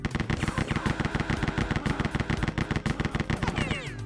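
Rapid MP40 submachine gun fire in the game Rise of the Triad, a loud continuous stream of sharp evenly spaced shots with no pause.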